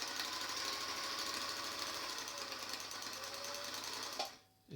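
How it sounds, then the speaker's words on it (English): A Singer 449 sewing machine stitches at a steady, fast, buzzing rhythm for about four seconds before it abruptly stops. The sound is close and moderately loud, with no voices. "It's certainly stitching okay."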